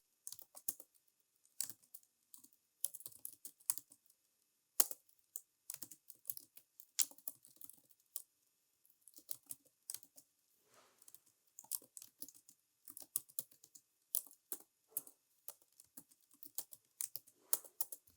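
Fingers type HTML code on a computer keyboard, producing steady bursts of light, close key clicks and taps with brief pauses between runs. The typing is quiet and there is no speech.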